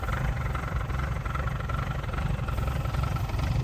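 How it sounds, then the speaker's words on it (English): A 1293cc fast road Mini engine idles after a completely cold start with no choke, a continuous, close, throbbing rumble with a rattly cam clatter, steady and loud throughout. "So this is with no choke. Completely cold start. Nice rattly cam."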